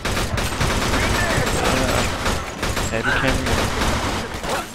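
Dense gunfire in the video game Mafia 2, rapid overlapping shots and bursts filling the whole stretch, loud and continuous, with someone shouting over the shooting.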